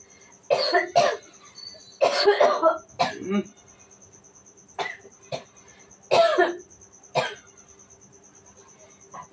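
Several harsh coughs come in short bursts, some doubled, spaced across the stretch with quiet pauses between them, close to the listener.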